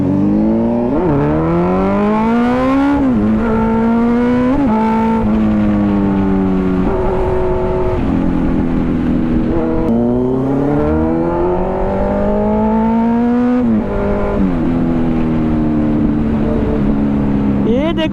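A 2023 Kawasaki Z900 motorcycle engine is heard while riding, rising and falling through repeated gear shifts with a loud, steady exhaust note and wind noise, recorded close up with no talking.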